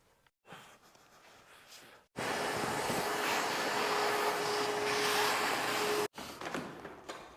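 Vacuum cleaner running over dismantled Ford Focus RS engine parts, a loud steady whooshing roar that switches on abruptly, holds for about four seconds, then cuts off.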